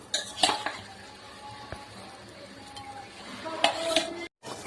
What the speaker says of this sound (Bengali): এবার আমি এক এক করে এই যে মাছগুলো দিয়ে দেবো